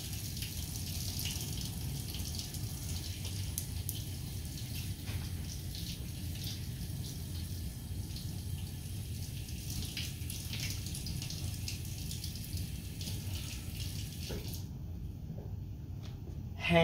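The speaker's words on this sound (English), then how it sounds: "Now I'm rinsing." A tap runs steadily for a surgical hand scrub, water splashing over hands in a continuous hiss at close range, with no speech over it; near the end the flow cuts off abruptly.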